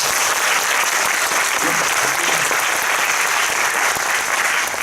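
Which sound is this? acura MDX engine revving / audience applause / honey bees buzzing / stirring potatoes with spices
audience applause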